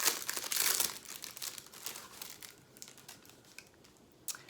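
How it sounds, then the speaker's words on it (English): Plastic packaging crinkles and crackles up close as a free gift is unwrapped, loud at first and then continuing in softer, scattered rustles. "Excuse any crinkling. While I open it up,"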